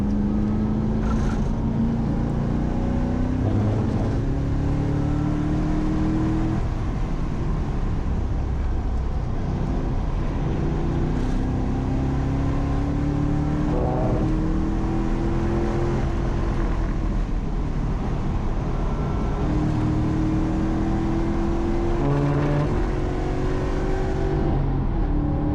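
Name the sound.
Mustang GT track car accelerating at Laguna Seca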